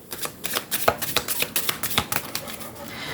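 Tarot cards shuffled and handled, a rapid run of crisp papery riffles and slaps in an irregular rhythm, close and alone with no talking.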